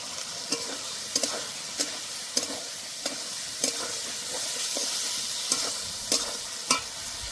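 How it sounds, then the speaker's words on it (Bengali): Soybean chunks fry in spiced oil for a vegetarian Bengali curry, a spatula knocking and stirring in a regular rhythm against the pan over a soft continuous sizzle. "এবার আমি সয়াবিনগুলো আগে দিয়ে দেব"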